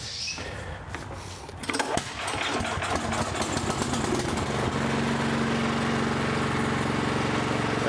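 A Troy-Bilt Vortex Tracker 2890 walk-behind snow blower engine is cranked, sputters to life after about two seconds, then settles into a loud, steady running drone close by.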